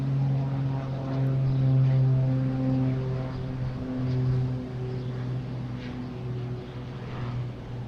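Cape Air propeller airplane at Boston Logan airport, a steady droning engine hum with a strong low tone that swells slightly and then eases, heard from a moderate distance.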